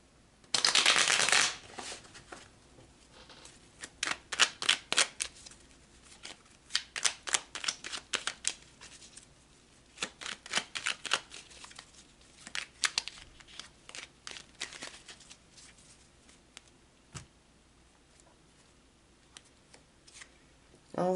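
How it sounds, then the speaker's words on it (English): A deck of tarot cards is shuffled for a long stretch, opening with a loud riffle and then going on in repeated bursts of crisp, close card shuffling. "So let's pull some cards to further clarify."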